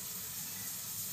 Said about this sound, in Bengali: আমি একটু গোটা জিরে ফোড়ন দিয়ে দিচ্ছি।